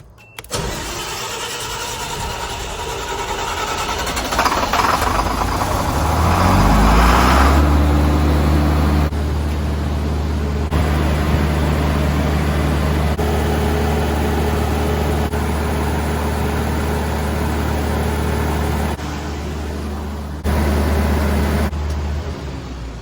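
A Caterpillar (CAT) generator engine cranks and catches after a few seconds, then settles into a loud, steady diesel idle with a constant low rumble that runs to the end, with no talking.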